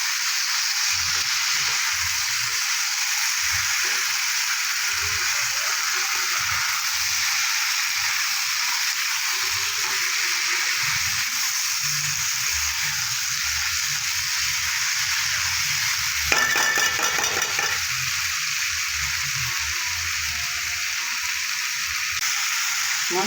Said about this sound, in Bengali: এবার আমি ভেজে রাখা আলু দিয়ে দেবো, ওর সাথে দিয়ে দেবো এঁচোড়টাও দিয়ে দেবো, দিয়ে ভালো করে একটু কষিয়ে নেব।